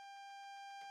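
AWS self-test alarm in a train simulator video game, a steady electronic tone held continuously under quiet background, alone without talk, ending with a brief burst of other noise.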